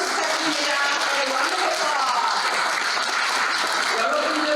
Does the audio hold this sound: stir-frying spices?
no